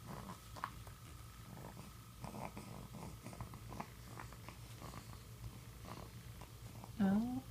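A house cat purrs in a steady, low rumbling drone, close but soft, while a person talks gently over it and a brief louder vocal sound comes near the end.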